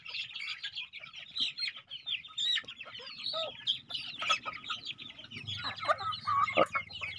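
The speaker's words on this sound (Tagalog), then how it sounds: "kinulong ko muna yung mga manok, lalo na yung mga sisiw" Chickens and chicks cluck and peep in a busy, overlapping stream of calls, some near and some farther off, with a faint low rumble of background noise underneath.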